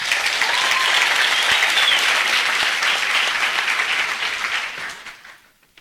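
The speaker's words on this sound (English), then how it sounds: "A round of applause." A debate audience breaks into loud, sustained applause for the first speaker, billed as Prime Minister, at a provincial debate. The clapping is dense and steady and fades out over the last second.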